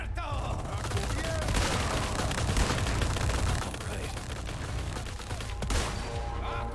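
Rifle fire in the Resident Evil 4 Remake video game, a few sharp shots cracking over a dense wash of game noise, gunfire and chaotic background sound.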